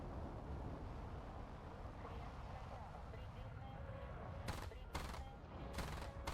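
Short bursts of MiG-29 cannon fire in a dogfight in the War Thunder video game, three or four sharp broadband bursts arriving in the last two seconds over a steady engine and wind roar.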